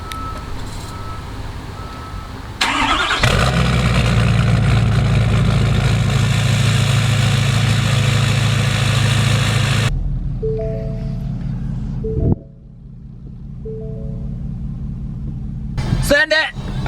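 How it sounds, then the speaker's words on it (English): A Ford F250 with a 6.7 Powerstroke diesel and a new built turbo and 5-inch exhaust fires up cold at 34 degrees: a starter crank, then a loud, deep, rumbling idle that drops lower, with voices talking nearby. "Coldest start so far with the new 5-inch."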